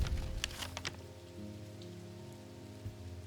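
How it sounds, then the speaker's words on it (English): Rain falls steadily in the video game Strange Antiquities, a continuous soft patter with soft ambient music tones underneath and no talking. "What is that noise? Oh, it's raining."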